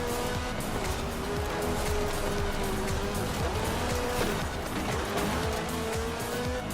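A car in the Forza Horizon 4 video game races on dirt, with a steady, loud engine drone and squealing tires as it skids on the handbrake, all continuous and up front.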